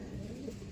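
A racing pigeon named Pastel coos softly and continuously over low murmuring, the short, steady call heard close up.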